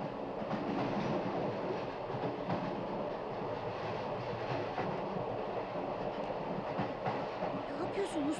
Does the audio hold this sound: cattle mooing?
no